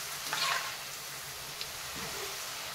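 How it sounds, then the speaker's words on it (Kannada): Potato peels frying in a pan, a steady soft sizzle with a brief louder crackle and stir near the start, close and alone with no talk. "ಇದಕ್ಕೆ ಇನ್ನೂ ಫ್ರೈ ಆಗಬೇಕು, ಗರಿ ಗರಿಯಾಗಿ ಬರಬೇಕು ನಮಗೆ"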